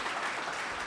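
Applause from an audience at a biotech conference session, a short, fairly faint burst of dense clapping that fills the whole moment with no voices over it.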